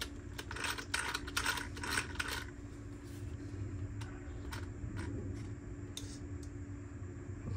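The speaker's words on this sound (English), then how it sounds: "Sound like a roller coaster, them gears in there." Gears of a Rlaarlo AK-917 RC car with aluminum parts whir and ratchet in a steady mechanical drone, with a burst of rapid clicking in the first seconds and scattered sharp ticks later, close and moderately loud, no talking.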